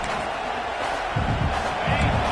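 A stadium crowd at a Nebraska football game roars with a broad, steady wash of cheering and rumbling noise, a commentator's voice running over the top.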